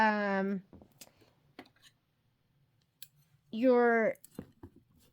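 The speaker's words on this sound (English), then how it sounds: "you want to trim all these jump threads" Snips clip loose jump threads on a Kimberbell machine-embroidered Christmas quilt block, giving a few soft, scattered clicks between two short tonal, voice-like hums.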